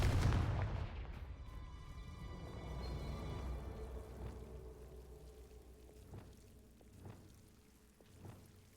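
A Confringo fire spell explosion in Hogwarts Legacy: a loud low blast right at the start, then a rumbling decay with a few smaller crackling bursts later.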